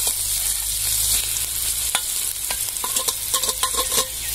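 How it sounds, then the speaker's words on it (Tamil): Onion and ginger-garlic paste, ground on a grinding stone, sizzle and sauté in a pan for country chicken soup, with steady frying hiss and repeated scraping, clinking strokes of a stirring utensil, close and continuous. "வெங்காயம் வந்து வதங்கிடுச்சு. இஞ்சி பூண்டு அரைச்சி வச்ச விழுது அதையும்"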